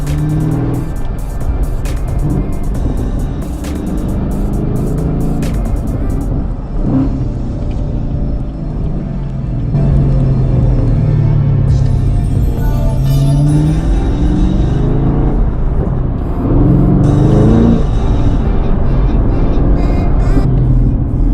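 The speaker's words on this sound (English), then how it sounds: "Now I'll do first gear downshift." A McLaren sports car engine revs loud and close in a roaring, rumbling blip as it rev-matches during a downshift into first gear, with surges in the revs throughout.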